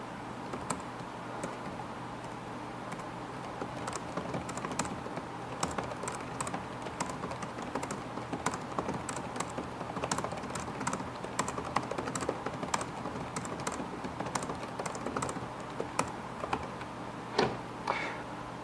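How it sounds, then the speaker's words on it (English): Quiet, soft key presses on a Dell Latitude 3330 laptop keyboard tapping in a quick uneven rhythm, close up and steady throughout, with occasional slightly louder clicks. "something people often do on a laptop is typing. So, time for a little quick keyboard test."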